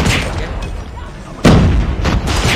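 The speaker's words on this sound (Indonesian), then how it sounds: "Friendly airstrike incoming." Friendly airstrike explosions in Call of Duty, a muffled rumbling blast followed by a sharp, heavy boom with a bright crack and rolling tail, in the thick of gameplay noise.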